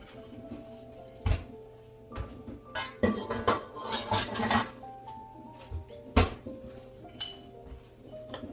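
A cooking pot is put away in a home kitchen during Thanksgiving gravy-making. Scattered metallic clatters and clinks come close by, with a busy burst of rattling in the middle and a sharp knock near the end.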